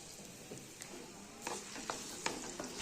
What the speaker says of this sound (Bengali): এতে দিয়ে দেবো পেঁয়াজ কুচি